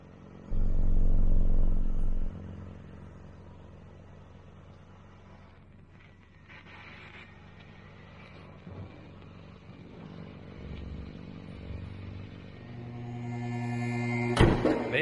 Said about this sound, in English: This is a sample of idle.